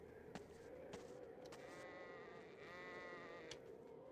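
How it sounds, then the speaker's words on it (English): Sheep bleat repeatedly in the video game Hitman 2: Silent Assassin (2002), several wavering calls over a steady farmyard ambience, fairly close and clear with no talking. "I hear sheep. And chickens."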